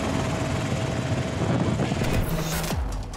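Police rescue helicopter Águia approaching a landing site, a steady loud rotor and engine roar filling the whole clip with a brief swell near the end.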